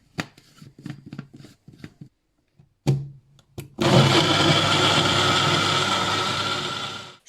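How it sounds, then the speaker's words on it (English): A kitchen blender whirs loud and steady for several seconds, blending a smoothie of raspberries, soya milk, orange juice and water, after a few brief clatters as it is set up. "And blend it."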